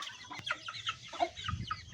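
Aseel chickens cluck in a quick run of short, bright calls, close and moderately loud, with a few soft low thumps between them and no talking.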